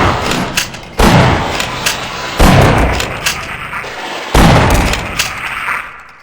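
Shotgun blasts in the video game Half-Life, four loud booming shots spaced about a second or more apart, each with a decaying rumble, no talk over them.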